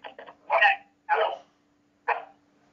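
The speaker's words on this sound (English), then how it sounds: "That was my dog that started your dog." Pit bull dogs barking indoors, a few close, loud barks and yips in short bursts with pauses between them over a faint steady hum.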